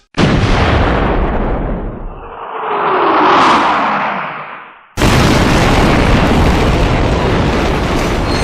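A loud explosion bursts into a roaring blast that swells and fades over several seconds, then a second abrupt burst of heavy rumbling noise follows and continues to the end.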